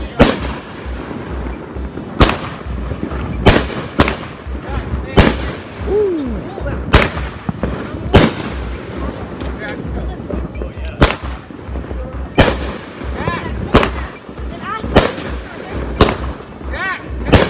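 A 186-shot fireworks cake fires a long, uneven barrage of sharp booms and crackling bursts at a Fourth of July celebration, loud and close, with scattered voices between the blasts.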